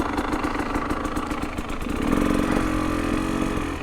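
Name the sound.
KTM 300 two-stroke TPI dirt bike engine idling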